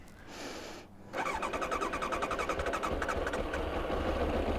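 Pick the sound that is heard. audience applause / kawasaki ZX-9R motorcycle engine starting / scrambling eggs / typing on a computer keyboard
kawasaki ZX-9R motorcycle engine starting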